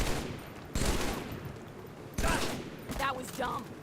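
Bursts of rapid battle rifle gunfire from the Halo show in two or three volleys, loud and close, with brief quieter gaps between them.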